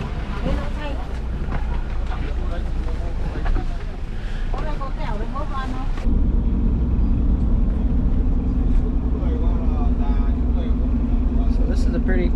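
Road rumble from inside a limousine van on a drive near Ha Long Bay, Vietnam, a steady low engine and tire drone that deepens midway, with people talking over it.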